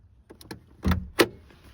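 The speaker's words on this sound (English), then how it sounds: "After you pop the hood" The hood release latch of a 2007 Chevy Silverado 1500 pickup, pulled from inside by the driver's door, gives a couple of sharp close mechanical clunks about a third of a second apart after a few faint clicks.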